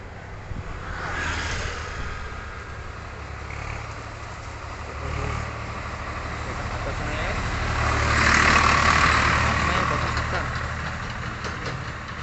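Vehicles pass slowly along a road, engines idling and rumbling as they swell near and fade, with people talking over the traffic.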